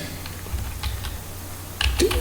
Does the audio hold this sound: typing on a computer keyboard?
yes